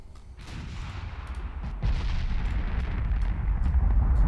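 Naval artillery in Ultimate Admiral Dreadnoughts booms in a dense, rolling barrage, heavy deep rumbles building and staying loud throughout with scattered sharper cracks, no talk.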